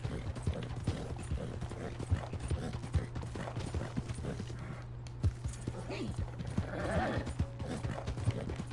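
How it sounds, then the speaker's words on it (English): Horse hooves clip-clop steadily in Red Dead Online, a rhythmic run of dull thuds over a constant low hum, with speech heard over parts of it. "I gotta feed my horse."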